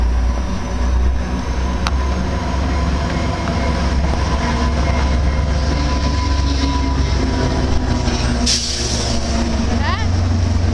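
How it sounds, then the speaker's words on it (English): A passing freight train rumbles past close by, with a steady heavy low roar, clicking wheels on rail joints, and squealing metal near the end, with speech faintly present. "Our first train of 2015."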